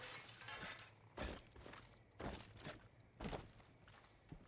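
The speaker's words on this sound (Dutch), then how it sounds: "Hebben die ruit een beetje kapot gemaakt." Window glass shatters in the video game Far Cry 5, a series of sharp breaking crashes and thuds spaced about a second apart, with footsteps between them and no voices.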